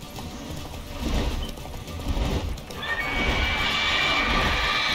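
Roach the horse in The Witcher 3 whinnies loudly and gallops with rapid clip-clop hoofbeats, close and clear with no talking.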